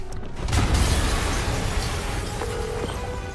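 A deep, rumbling blast in the Spider-Man PS4 video game, a loud low boom swelling early and then trailing off into a sustained roar.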